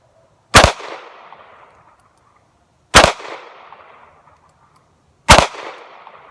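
A Smith & Wesson 342 Airlite revolver fires three evenly spaced shots at a target 50 feet away, each a loud, sharp crack with a short decaying tail, separated by near silence.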